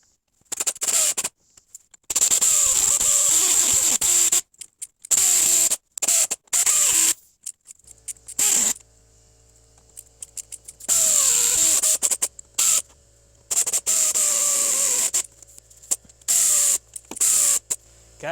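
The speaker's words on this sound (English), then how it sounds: "this air ratchet is worthless today" Air ratchet whirring in short bursts while working on a car, loud high-pitched pneumatic buzzing that starts and stops repeatedly with quiet gaps between, close up in a garage.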